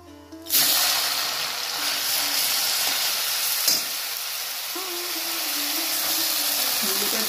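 Radish pieces drop into hot oil already seasoned with black cumin, setting off a sudden loud sizzle that settles into a steady, close frying hiss with a brief stir partway through.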